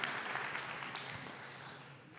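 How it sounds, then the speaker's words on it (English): Audience applause in a high school gathering greeting a state official, a fairly faint, steady patter of clapping that holds for a couple of seconds before tapering slightly. "Let's give him a round of applause."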